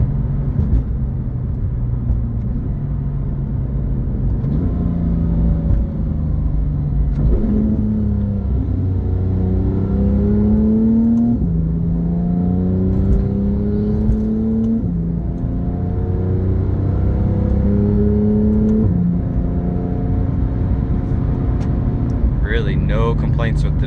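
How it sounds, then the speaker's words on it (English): Porsche 911 GT3 exhaust droning steadily while driving, its note rising and falling through gear changes, loud and close throughout, with a voice talking over it. "Exhaust sounds amazing."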